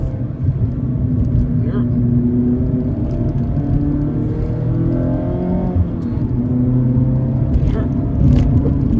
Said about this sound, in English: Take it all the way here. First gear. Second gear.